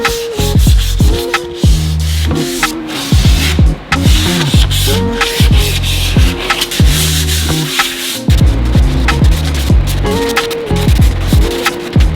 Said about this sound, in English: I need to do a light sanding on this. It hasn't been sanded yet, so I'm just gonna do that by hand